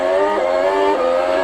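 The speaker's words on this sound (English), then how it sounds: "That's a nice noise, the revving and then changing of gears and stuff" Onboard F1 race car engine from the 2020 season, a loud high-pitched whine holding steady with brief dips where the pitch drops and climbs again as gears change, close and continuous without speech.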